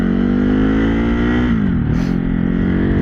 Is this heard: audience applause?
no